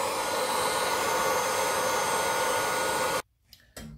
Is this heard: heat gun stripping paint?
yes